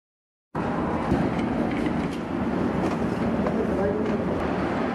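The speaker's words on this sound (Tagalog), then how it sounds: "Ayan na yung tren." The Bangkok to Chiang Mai Express 51 sleeper train arriving at the platform, a continuous rumble with rattling rising after a brief silence, with crowd chatter mixed in.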